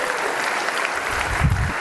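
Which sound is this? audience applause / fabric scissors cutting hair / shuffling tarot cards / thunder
audience applause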